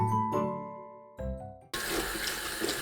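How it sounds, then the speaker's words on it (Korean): Dried jujubes are rinsed under running water. After a few ringing, chime-like tones, a loud, steady rush of tap water fills the rest of the moment. "건대추를 물에 헹굽니다."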